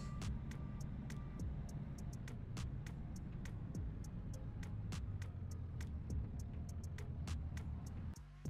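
A truck engine runs steadily on a farm during seed planting, a continuous low rumble and hum with repeated sharp ticks and clicks over it throughout.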